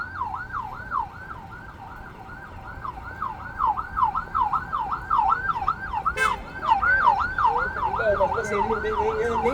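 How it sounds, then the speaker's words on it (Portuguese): A SAMU ambulance siren wails in São Paulo street traffic, its rapid rising-and-falling yelp repeating loudly and close over the rumble of vehicles, joined partway through by a second siren tone. "Abre caminho aí para a ambulância."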